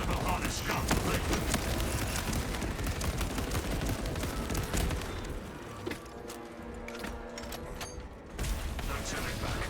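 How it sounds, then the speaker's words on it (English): Servo harness gun firing in a video game, a dense, sustained rattle of rapid mechanical gunfire with clanking mechanisms that thins out briefly before resuming, loud and continuous throughout. "Servo harness gun ready."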